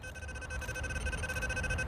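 A steady electronic alarm tone repeating in quick pulses, fairly faint against a low background rumble.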